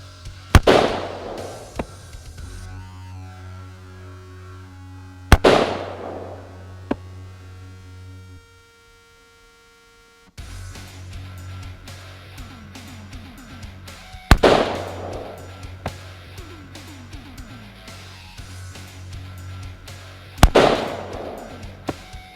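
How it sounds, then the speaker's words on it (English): An AR-15 rifle fires M193 Federal 5.56 mm military-spec ball ammunition outdoors: four loud, sharp gunshots spaced several seconds apart, each followed by a ringing decay, with no talk. "we're going to fire 5 rounds of M193 Federal ball ammo"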